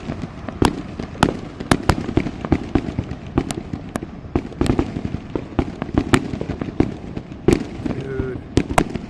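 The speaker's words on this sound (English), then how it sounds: "Oh, another one of those finale bursts over here." Fireworks finale bursts at a city-wide show for America's 250th go off in a rapid, irregular string of sharp cracks and booms, some near and loud, others farther off, with occasional voices in the background.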